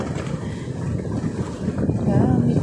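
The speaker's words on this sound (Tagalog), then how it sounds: "Gamit ang bangka." A bangka, a small wooden boat, moving across open water, a low continuous rumble with splashing and wind noise on the microphone, steady and close.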